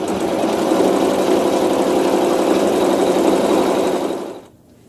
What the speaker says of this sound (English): And I'll bring that bobbin thread to the top so the back looks pretty, and it'll sew some quilting.